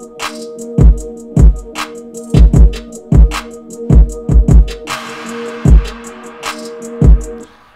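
A wet arpeggiated melody loop, filtered with chorus and reverb, now joined by a hip-hop drum pattern of punchy kicks and sharp snares or claps, with a noisy sweep rising midway; loud, instrumental, no voices.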